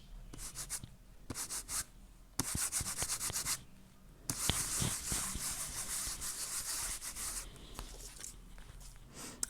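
An ink pad is rubbed lightly across an embossed metallic card surface, making soft, close scratchy rubbing strokes in bursts with short pauses.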